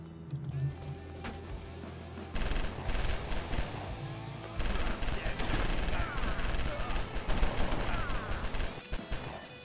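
Rapid bursts of gunfire from the top-down police shooter LA Cops, dense and continuous through most of the stretch, building louder after the opening seconds amid game music and effects.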